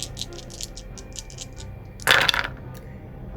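Handful of four dice tossed in a solo tabletop game of Death Wizards, a brief bright clatter and rattle as they land on the table, following a stretch of quiet ticking.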